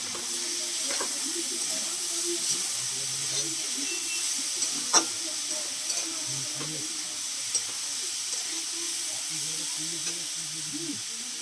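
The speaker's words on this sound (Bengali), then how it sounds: "প্রথমে বন্ধুরা আমি একটু চাউমিন করার জন্য একটু প্রথমে আলুটাকে ভেজে নিচ্ছি" Potatoes fry in a pan as the first step of making chow mein, giving a steady, soft sizzle throughout with occasional sharper crackles and faint clinks close by, while a voice talks quietly in the background.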